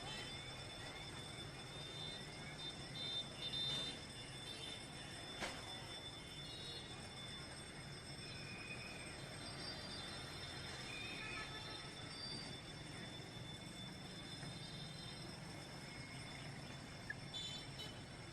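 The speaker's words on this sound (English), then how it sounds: "Twice daily a speeding train passes only a few feet away from homes of this residential neighborhood in Vietnam." A train rolls through Hanoi's narrow Train Street in a residential neighborhood of Vietnam, wheels squealing against the rails in a long continuous grind with steady rumbling, close by and unbroken for the whole stretch.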